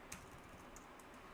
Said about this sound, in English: Wow, that's a lot of typing.